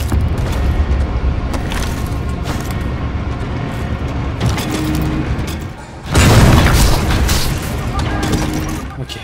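Enemy gunfire in the video game Homefront: The Revolution, a dense continuous clatter of shots and booms with a louder burst partway through, heard under someone talking.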